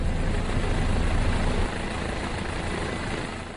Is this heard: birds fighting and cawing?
no